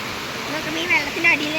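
Clear, shallow stream water used as an old village bathing spot flows in a steady, close rushing wash with a few brighter splashy swells, continuous for the whole short stretch.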